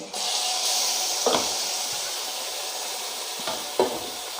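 Chicken pieces frying with coconut in a hot pan give a steady, close sizzle and hiss, broken by a couple of sharp scraping clacks as the pieces are stirred, with no talking.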